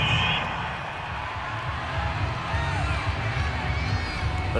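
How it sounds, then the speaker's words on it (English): A home crowd at a Raiders football game against the Eagles roars steadily after a referee's call, a broad sustained wash of cheering and shouting from a large stadium with no single voice standing out. "This home crowd, they're happy with that call."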